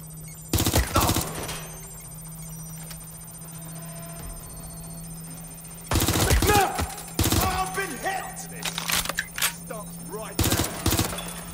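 MP5 gunfire in Watch Dogs Legion: sharp, loud bursts of automatic fire in several short volleys separated by pauses, over a steady low electronic hum, with brief speech between some bursts.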